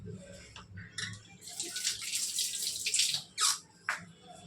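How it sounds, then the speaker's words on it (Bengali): A small splash of water, about a spoonful, is poured into a mixer-grinder jar while cooking, heard as a few short, close trickling bursts over quiet kitchen background. "একটুখানি জল দিলাম, মানে 1 চামচ মতো জল দেবো"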